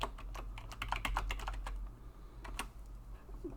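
Fingers tap out a folder name on a computer keyboard, a close run of quick, uneven clicks that thins into a few scattered keystrokes over a low background hum.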